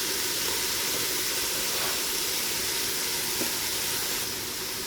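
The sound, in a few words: chopped onion added to browned pork, sizzling in pot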